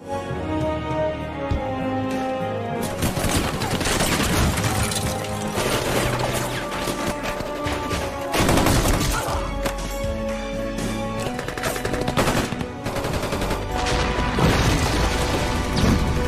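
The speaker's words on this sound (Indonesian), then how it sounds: "para napi langsung melakukan bombardir tepat ketika Pak baru saja ingin memulai misi pembunuhan" A bombardment scene from a war film with gunfire and explosions: loud, dense, continuous blasts, crashes and booms layered over a steady rumbling score, with no clear pauses.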